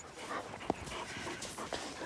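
Dogs out snowshoeing in a snowy Alaskan yard pant quietly and whimper close by, with a few sharper yips breaking through the steady breathing.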